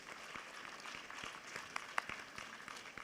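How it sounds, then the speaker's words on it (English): Conference audience claps to welcome the Fiji High Commissioner at an international gathering of chief justices, a soft, thin patter of scattered hand claps with a few louder individual claps, faint and distant in a large hall. "Can we please welcome him with a huge round of applause?"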